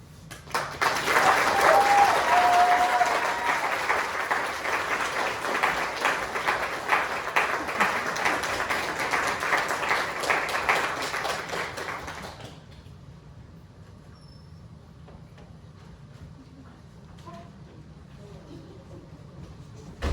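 Audience applause bursts out after a speech, loud and sustained for about twelve seconds with dense broadband clapping, then cuts off abruptly to a quiet room hum.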